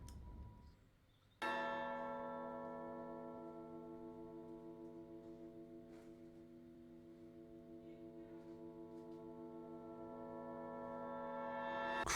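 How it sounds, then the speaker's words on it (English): A reversed swell pulls into a ringing bell effect from an Incredibox mod, which then sustains a long resonant tone and slowly swells again toward the end. "love the way it reversed and back into the bell again"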